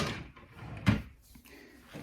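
A drawer in a Cricut craft room desk slides and knocks once, a short woody thud over soft room noise, close by with no talking.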